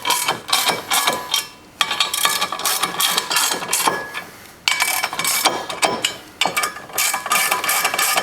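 A ratchet tightens the lock-nut bolts on a clutch pressure plate during a TY Tech Ulmer clutch kit install, loud close bursts of rapid clicking separated by brief pauses.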